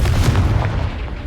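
A Confringo fire spell bursts in Hogwarts Legacy, a single loud, close, booming blast with a low rumble that fades over about a second.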